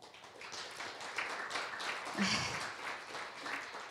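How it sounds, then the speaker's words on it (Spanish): A church congregation applauding during a service, with moderate, fairly even clapping that swells slightly midway and continues over a low background murmur. "Vamos a dar un aplauso al Señor."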